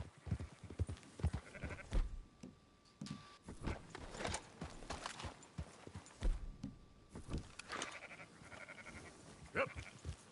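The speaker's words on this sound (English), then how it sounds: "Marston, why don't you leave the sheep to me?" Sheep bleat in Red Dead Redemption 2 gameplay, several short calls scattered over a busy outdoor scene with hoof clops and rustling, moderately close and somewhat faint.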